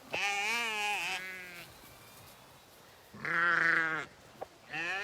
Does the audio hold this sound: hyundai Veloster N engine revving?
no